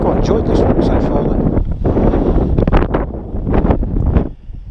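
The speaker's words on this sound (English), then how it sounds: "It's windy." Strong wind buffeting the microphone with a loud, gusty roar on the hillside of The Cheviot in Northumberland, with faint voices mixed underneath.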